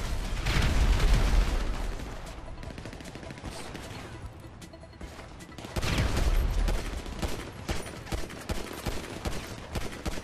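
Grenade blasts and gunfire during a GTA Online match: a deep explosion at the start and another midway, with scattered rapid shots and pops in between, moderately loud and fairly busy.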